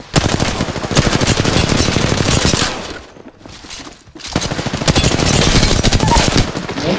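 Sustained automatic gunfire in the Apex Legends battle royale game, loud and near, with dense rapid bursts that pause briefly mid-clip before firing resumes just as heavily.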